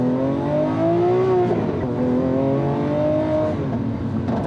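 A Lamborghini in Corsa mode revs its engine, the note rising and falling through several sweeps at steady loudness, heard up close from inside the car without talk.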